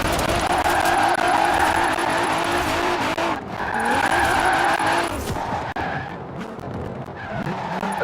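A car drifting with the e-brake in Forza Horizon 4 produces sustained loud tire squeal over a revving engine, with brief breaks as the slide resets and resumes.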